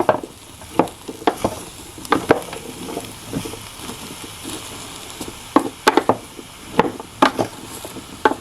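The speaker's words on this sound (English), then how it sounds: "I just added the 2nd eggplant, and I'm going to give this a stir." Ratatouille with eggplant and summer vegetables is stirred in a Nesco 4-quart roaster oven, a spoon scraping and knocking in loud irregular strokes over a soft sizzle, with no talking.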